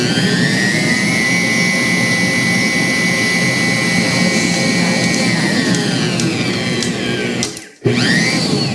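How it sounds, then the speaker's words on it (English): A Ventray 800-watt, 6-quart tilt-head stand mixer runs with a steady, loud motor whine and whir close by, then briefly cuts out and spins back up near the end, with no talk over it. "going to go ahead and turn it on. Okay. Sounds smooth."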